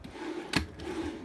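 A wooden drawer on a newly assembled piece of furniture slides open and shut at close range: one loud scraping thud near the middle and a second sharp knock at the end, with a quiet room between them.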